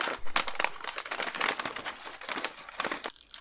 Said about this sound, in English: open this paper bag.